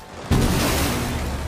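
In the video game Rainbow Six Siege, a sudden heavy blast erupts as hard breach charges detonate in sequence, followed by a dense, rumbling roar of rapid detonations that carries on without a break.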